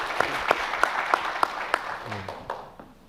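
An audience applauds after a talk on monuments and public space: a burst of scattered, fairly close clapping with several sharper individual claps standing out, fading over about three seconds.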